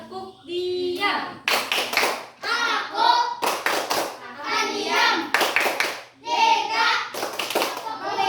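A fourth-grade class claps in a rhythmic chant: bursts of hand clapping come in quick groups, with children's voices chanting along between the claps.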